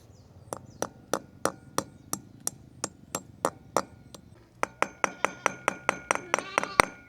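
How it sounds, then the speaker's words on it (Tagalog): Metal hammer blows strike a tight bolt to loosen it, about a dozen sharp, evenly spaced clanks, a short pause, then a faster run of ringing strikes close to the microphone. "Dala siguro sa pukpok to. Pukpukin natin."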